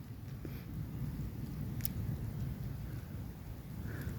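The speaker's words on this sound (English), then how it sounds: "You may well be able to hear the rain coming down." Steady rain patters down through a forest at night, a dense, even hiss spread across the whole stretch with no voices, one brief sharper drip or crackle standing out partway through.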